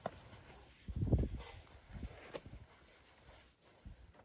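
A young horse's hooves clop on the ground in a few uneven steps, moderately close, with quiet rustling between them.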